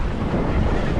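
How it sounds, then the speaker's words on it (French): Strong wind buffets a sailboat under sail, a loud, continuous roar of wind against the microphone mixed with rushing water. "Là, le vent il est bien monté."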